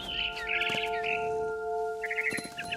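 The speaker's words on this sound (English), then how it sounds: "Then I heard chirping outside my window. It was a barn swallow going back to her nest." A barn swallow chirps in the video game What Remains of Edith Finch, with quick bursts of twittering notes near and clear over a steady tonal hum, pausing midway and then chirping again.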